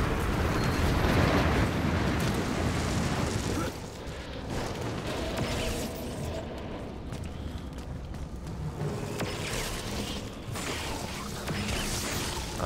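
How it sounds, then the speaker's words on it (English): Heavy rumbling crashes and grinding roll on as rocks fall from the sky while mountain climbing in the video game Lost Planet, loud and continuous with shifting debris noise. "Rocks falling from the sky."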